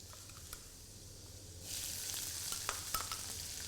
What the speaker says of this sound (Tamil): அதை இப்போ எண்ணெயில் நல்லா வதங்கிட்டு